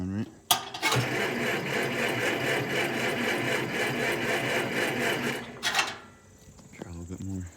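A vehicle's starter cranks as the ignition is turned, a loud steady mechanical whir lasting about five seconds, bracketed by clicks and a brief restart attempt, with people talking before and after.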